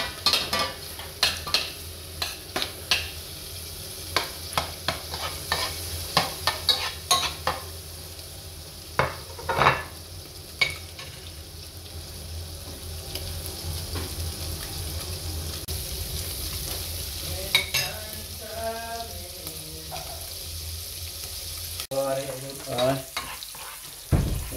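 Beef fat renders in a pan for Ilocano pinapaitan, giving a continuous crackling sizzle with sharp sputtering pops and scraping stirs throughout, and a louder burst of spitting near the end.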